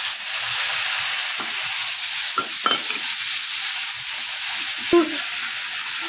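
Spice paste frying in a pan of oil with nigella seeds for an onion- and garlic-free fish curry: a steady close sizzle and hiss, broken by a few stirring scrapes and clinks.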